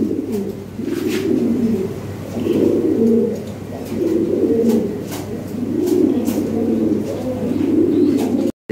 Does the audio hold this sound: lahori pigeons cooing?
yes